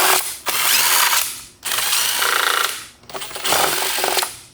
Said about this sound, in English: You just take a 7/16 socket and remove these 4 bolts.